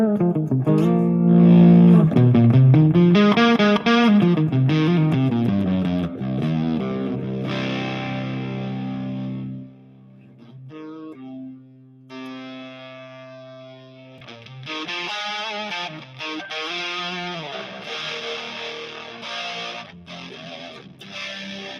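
Heavily distorted 80s-style shredder electric guitar, a Warlord, loud and sustained, with bending notes and a short drop in intensity partway through before the riffing returns.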